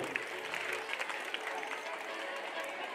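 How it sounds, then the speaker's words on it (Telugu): Audience at a prize-giving ceremony for a cultural program applauds a cash-prize winner, a steady dense wash of clapping hands throughout. "చప్పట్లు కొట్టండి గట్టిగా"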